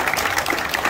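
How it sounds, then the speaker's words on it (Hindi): A brief burst of vigorous audience applause at a fitness academy gathering, many hands clapping loudly and close, with a little crowd murmur mixed in. "एक बार जोरदार ताली रहे।"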